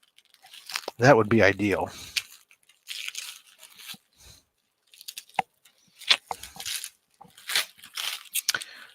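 Plastic wrapping around mailed books being sliced and torn open in short crackling, crinkling bursts, with a person talking between them.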